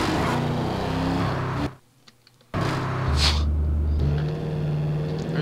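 A car engine drones through a Garry's Mod driving session, with steady tonal humming that cuts out abruptly for a moment, then returns with shifting pitch and a brief higher whine.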